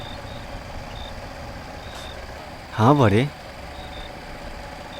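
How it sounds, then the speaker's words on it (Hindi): A truck pulls up at a house doorway, with a short burst of loud reversing beeps rising over a low engine rumble; a brief voice speaks before it. "अरे अपने द्वार पे गाड़ी।"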